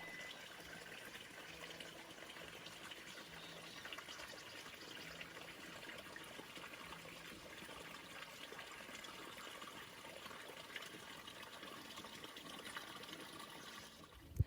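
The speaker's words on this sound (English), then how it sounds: "made our way to the water to fill up for the rest of the evening and tomorrow morning" Water runs steadily into bottles at a mountain water source on the San Jacinto Peak trail, a soft continuous trickle and gush that holds even for the whole stretch, with no talking.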